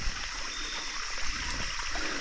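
A creek flows steadily on abandoned coal mine land, a constant close rushing and trickling wash with no breaks and no voices, filling the whole moment evenly.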